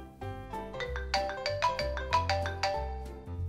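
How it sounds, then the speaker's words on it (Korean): A phone ringtone sounds for an incoming call, a melodic electronic tune of stepped tones with a steady low bass pulse, playing clearly and alone for several seconds. "전화가 오네?"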